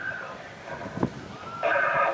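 During a horse ride at Touroparc, a horse gives a short whinny at the start, followed by a faint low snort and a louder neigh-like burst near the end, heard at moderate distance against quiet outdoor background.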